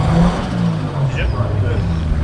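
Nissan RB turbo engine in a race car at Ringwood, revving loud and close with a rough, buzzing drone that pulses and climbs briefly, while a person talks over it.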